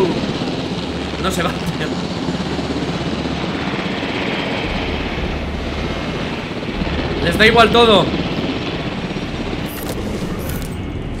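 A helicopter in the Jurassic World dinosaur game gives off a steady low engine drone that runs under someone talking casually, with a brief burst of sharper rattling noise partway through.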